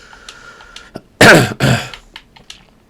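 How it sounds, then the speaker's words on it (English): A man at his computer during a Minecraft session coughs twice, two harsh, loud bursts close to the microphone, with soft keyboard clicks and light ticking before and after. "Excuse me for coughing."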